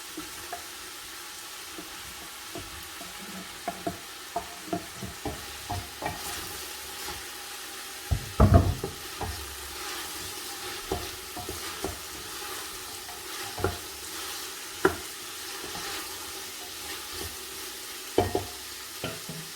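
Aubergine (eggplant) frying in a pan while a spoon stirs it, a soft continuous sizzle punctuated by scattered scraping clicks and one louder knock, close and alone without talk.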